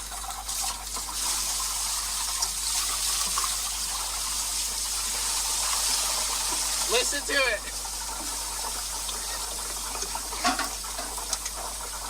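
Liquid gushes and splashes as it is poured into the oil pan fill hole of a running Ford pickup engine, a steady loud wash over the motor's noise, with someone talking over it.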